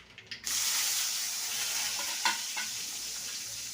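Seasoning fries in hot oil for an ivy gourd (dondakaya) masala curry. It makes a loud, steady sizzle close by, with a few sharp crackles and pops and no one talking.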